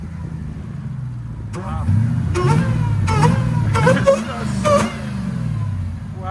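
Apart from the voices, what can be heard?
Demon-swapped Jeep Gladiator engine revving through its exhaust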